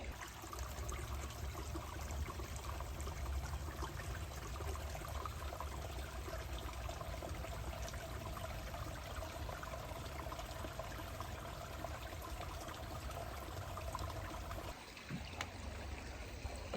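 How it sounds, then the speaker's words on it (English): A small brook flows along a fall hiking trail with a faint, steady trickle and wash of water, continuous and fairly distant, with no voices and a brief dip near the end. "Nice little brook here."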